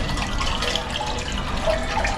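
Ice cream base pours from a bag into an ice cream machine at a farm market, making a steady, close, full splashing rush of liquid that continues without a break.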